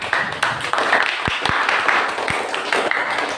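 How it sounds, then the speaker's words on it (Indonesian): Schoolchildren applaud together in a classroom, a steady wash of clapping with a few sharper individual claps standing out near the middle, moderately loud and close. "Mari kita beri tepuk tangan sekali lagi."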